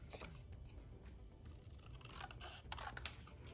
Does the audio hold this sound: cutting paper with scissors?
yes